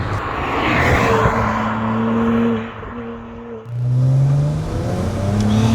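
A JDM BMW 335i with the N54 turbo engine revs hard while accelerating, its loud droning note climbing steadily, dipping briefly at a shift, then rising again close by.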